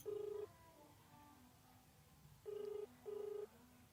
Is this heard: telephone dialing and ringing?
yes